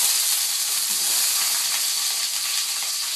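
Chana dal and green chillies sauté in hot oil, a dense steady hiss and crackle heard close up and without pause.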